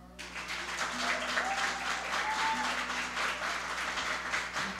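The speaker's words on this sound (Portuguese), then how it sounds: "eu queria que você, nesse momento, aplaudisse" A church congregation applauds steadily, many hands clapping together in a sustained wave from a moderate distance, with faint tones underneath.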